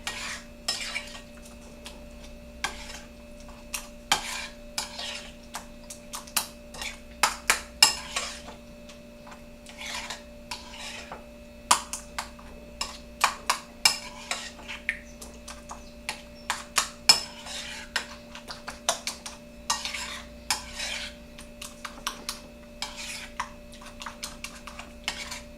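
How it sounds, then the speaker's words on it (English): A utensil scrapes and taps quickly against a bowl while stirring keto coleslaw dressing seasoned with salt and pepper, a long run of crisp close clicks at an uneven rhythm over a quiet steady hum. "the more I stir it, the better it comes out"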